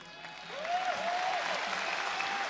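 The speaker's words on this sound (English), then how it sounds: "The applause for the announcement, of course." Steady applause from a large arena crowd at a PRIDE mixed martial arts event, continuous and moderately distant, with a faint tone sweeping through it.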